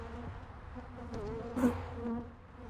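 Angry honeybees buzz loudly around an opened hive during a honey harvest and hive check, a dense steady drone with a brief louder swell as insects pass close.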